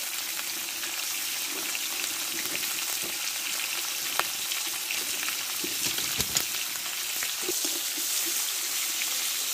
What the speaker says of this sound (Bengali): নুন হলুদ মাখিয়ে মাছের মাথাটা আমি ভালো করে ভেজে নিব